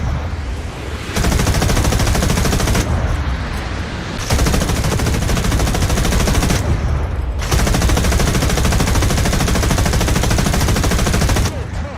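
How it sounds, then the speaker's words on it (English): Rapid automatic bursts from a tank-mounted machine gun in the War Thunder video game, loud and close, firing in long strings separated by short pauses of about a second. "Holy Lord, those gun sounds though"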